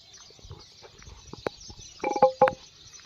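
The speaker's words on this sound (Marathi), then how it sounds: "सकाळी अगदी सुंदर अशा वातावरणामध्ये पशुपक्ष्यांची सुंदर अशी विलक्षण किलबिल जी आहे ती सुद्धा विलक्षण आनंद देऊन जाते" Birds call in the morning among trees, with a few short, bright chirps clustering near the end over a quiet, hissy outdoor background.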